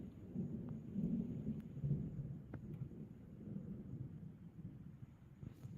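Thunder rumbles low and steady from a thunderstorm, a dull, rolling growl that stays at a moderate level for several seconds with faint crackles scattered through it.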